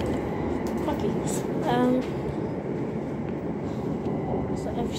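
Steady rumble of a passenger train running out of Stratford, heard from inside the carriage, with a brief tonal squeal and people talking over the noise.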